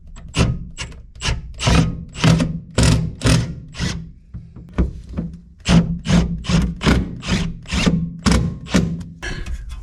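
A drill bores holes into the glove box of a Chevrolet squarebody truck, with repeated short bursts of grinding and rasping at close range separated by brief pauses.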